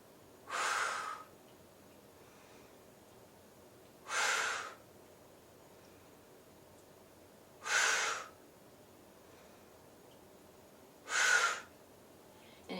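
Heavy, forceful breaths come in four evenly spaced bursts during a stability ball workout with weights, each a short loud exhale separated by quiet pauses, close to the microphone with no talking.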